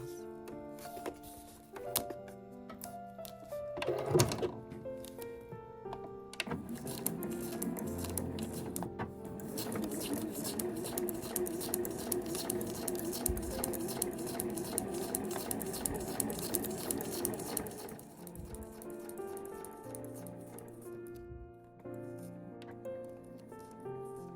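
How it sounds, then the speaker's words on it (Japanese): A sewing machine fitted with a laminate presser foot stitches quilted nubi fabric for a small cold-storage tote, giving a quiet, steady, rhythmic whirr. Lighter handling noises come before and after the stitching. "今度はラミネート押さえに変えて同じようにして縫っていきます。"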